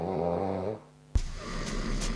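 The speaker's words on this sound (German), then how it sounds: "Total geschnarcht." A sleeper snores during a night-time test of an anti-snoring pillow with vibration and air cushions, one loud, buzzing snore breath up close, then a brief pause and a sudden burst of rustling noise.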